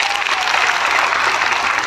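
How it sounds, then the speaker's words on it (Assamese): Sustained applause from an audience at a public meeting, dense steady clapping that fills the whole moment at high level with no voice over it. "প্ৰমোদ বৰা ছাৰৰ কাৰণে জোৰদাৰ হাত চাপৰি দিয়ক"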